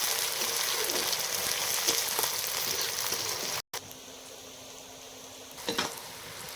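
Onions sizzle steadily in hot oil in a pan alongside bay leaf, cloves and cinnamon while duck curry is being prepared, a dense continuous frying hiss with a brief break and a few stirring scrapes near the end.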